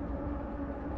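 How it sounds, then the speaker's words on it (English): A passing train on a busy rail line beside the Joliet Iron Works trail in Illinois gives a steady, low rumble that holds at an even level throughout, with no voices over it. "This train line is so busy. That's the third train in about 15 minutes"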